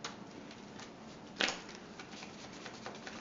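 Playing cards are riffled and handled during a trading card game after a mulligan. There is soft, close rustling and light clicking, with a sharper burst midway and another snap at the end.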